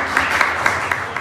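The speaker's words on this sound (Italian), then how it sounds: "Adesso accogliamolo con un bel applauso" Applause from the audience at an Italian award ceremony, a close, loud burst of clapping with a few sharper individual claps standing out in the brief stretch.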